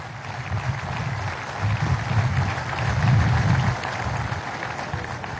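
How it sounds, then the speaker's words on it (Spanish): A large crowd gives sustained, strong applause at a Venezuelan military aviation day ceremony, a thick continuous roar of clapping that swells in the middle and stays steady to the end. "a quien pido un fuerte aplauso"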